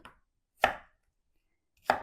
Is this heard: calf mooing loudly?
no